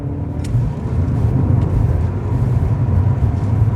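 A car with a 1.5-litre petrol engine rumbles steadily and loudly, a continuous low drone from inside the moving vehicle with no talk.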